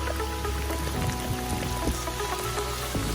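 Heavy rain pours down steadily during a hike on the Appalachian Trail near Dragon's Tooth, McAfee Knob and Tinker Cliffs, a dense patter of drops on surfaces with a few sharper taps standing out, continuous and close with no voices.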